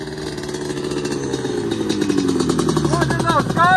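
ATV engine, a Banshee 350 or KTM 450, revving and bogging as it lands off the first jump, with a dipping, stuttering drone that climbs again, heard over excited voices nearby.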